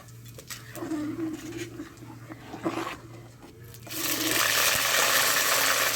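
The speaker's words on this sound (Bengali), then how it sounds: "তেল গরম হয়ে এসছে। ফোড়নে দেব শুকনো লঙ্কা, তেজপাতা, গোটা জিরে।" Dry chillies, bay leaf and whole cumin hit hot mustard oil in a pan, bursting into a loud, steady sizzle after a few quiet clinks and taps, with a brief voice early on.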